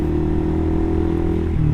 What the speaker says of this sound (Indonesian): Tuh ngebasnya tuh enak banget ini knalpot asli.